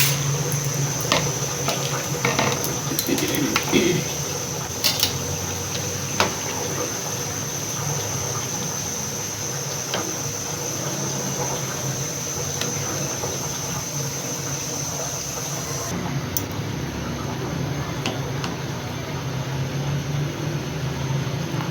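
Macaroni boiling in a pot of salted water on a home kitchen stove, a steady continuous bubbling and rushing wash of water that holds at an even level throughout.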